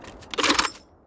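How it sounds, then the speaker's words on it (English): Brief mechanical clatter of a weapon magazine change in a Call of Duty game, a quick burst of clicks and rattles lasting about half a second. "Changing mag."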